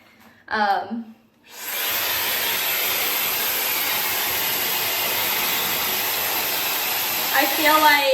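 A Shark FlexStyle hair dryer starts up after a brief voice and runs as a steady, loud, close airy whoosh with a high whine on top, a voice returning faintly near the end.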